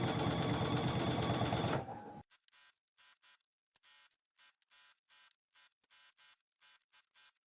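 A sewing machine runs steadily and close while stitching curtain fabric, then stops, followed by a series of quick, quiet, evenly spaced short clicks.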